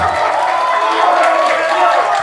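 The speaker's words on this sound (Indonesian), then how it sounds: "Oke, tepuk tangan." An audience at a school leadership training event in South Jakarta cheers and claps in a steady, moderately loud wash of crowd noise, with voices mixed into the applause throughout.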